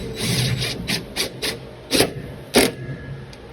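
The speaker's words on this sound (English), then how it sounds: "we're gonna go ahead and install the new screw" A new screw being fitted to the shifter cover of a Maytag Commercial Technology washer: a series of short, close rasping clicks and scrapes in uneven bursts, with two louder strokes near the end.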